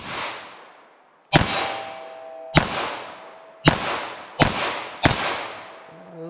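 .22 LR semi-automatic rifle firing five sharp gunshots at irregular intervals of roughly one second, each crack ringing out with a long decaying echo outdoors.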